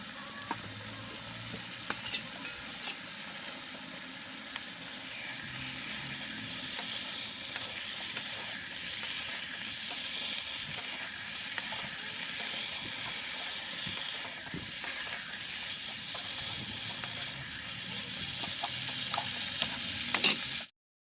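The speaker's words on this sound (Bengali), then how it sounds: "এবার মুরগির চামড়া আর পাগুলোকে ভালো করে মশলার সঙ্গে কষিয়ে নেব।" Chicken skin and feet fry with spices for a potato curry, a dense continuous sizzle with frequent scraping stirs and clinks, close and steady for about twenty seconds, no voices.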